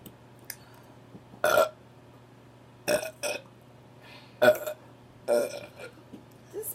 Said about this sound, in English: Give us some good burps.